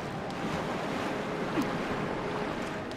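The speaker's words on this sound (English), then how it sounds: "It's windy here." Wind gusts through an outdoor area in The Legend of Zelda: Twilight Princess, a steady, full rushing roar with a slight swell near the middle and no talk over it.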